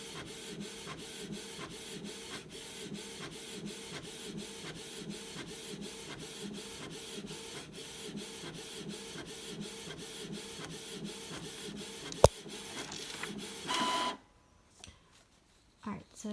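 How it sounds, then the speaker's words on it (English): Canon PIXMA TS202 inkjet printer printing a color page, a steady rhythmic mechanical whirring with regular carriage passes, followed by a brief clunk and the sheet ejecting before the noise stops. "So it should start printing now. This is going to be the color."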